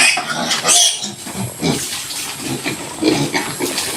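Pigs on a piggery farm, including newly added fattener stock in a roofed pen, grunt and snuffle continuously at close range, with louder squeals and snorts rising over a busy, shifting barnyard din.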